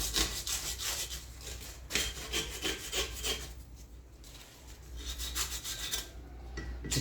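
Sandpaper rubs back and forth over a metal knife pin to remove a burr, a close, continuous rasping scrape with a repeated stroke rhythm throughout.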